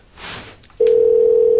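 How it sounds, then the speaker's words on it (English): A telephone on a radio call-in line gives a loud, steady electronic tone that starts abruptly after a brief rustle and holds unbroken. "It's ringing, bud."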